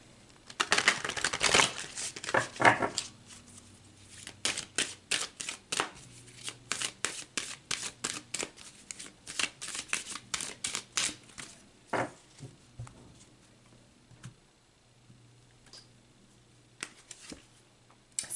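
Tarot cards being shuffled and pulled from a deck, a close run of crisp riffling flutters and slaps, with quieter single card flicks following in an irregular rhythm.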